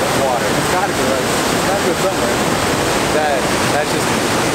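Powerful rushing water near Emerald Lake in Canada, a loud, steady roar of torrent flow with wind buffeting the microphone throughout.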